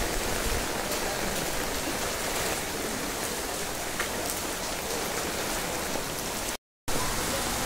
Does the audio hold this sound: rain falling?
yes